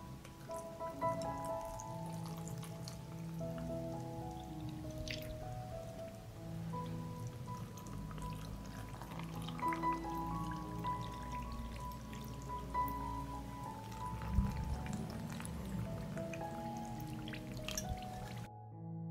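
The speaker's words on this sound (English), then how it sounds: "I fill the jar with water to cover the raspberries" Water trickles and drips into a jar of raspberries, a soft continuous pouring with small splashy drops and gurgles, faint and close, with no voices.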